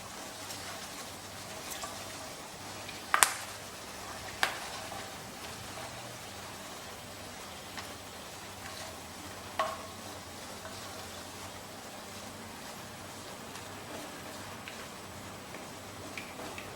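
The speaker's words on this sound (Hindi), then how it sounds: "इन्हें हम 1 मिनट के लिए अच्छा बढ़िया फ्राई कर लेते हैं।" Cloves frying in a pan for a chicken pasanda, a faint, steady low sizzle with a few sharp ticks and pops from a spoon or the pan, heard alone without talk.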